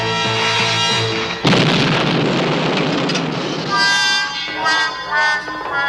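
An old cannon is test-fired in a cartoon, giving one sudden loud boom followed by a rumbling, hissing decay, with music-like tones before and after.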